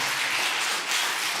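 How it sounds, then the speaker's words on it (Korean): A church congregation clapping enthusiastically, a dense, even wash of many hands close by with no pauses, brief and loud throughout. "한 번 더 힘차게 박수"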